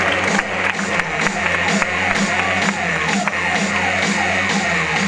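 An audience at a college annual sports and cultural programme applauds, a dense, loud crowd clapping with scattered cheers that holds steady throughout.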